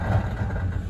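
Car engine with a fully busted CV joint, running steadily with a low rumbling idle throughout a short stretch, fairly close and loud with no talk over it.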